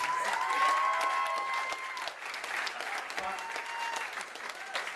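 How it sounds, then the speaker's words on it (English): Guests at a drug-policy reception applaud Congressman Polis, a broad, fairly soft wash of clapping running throughout, with some voices mixed in beneath it. "if that doesn't deserve a big round of applause"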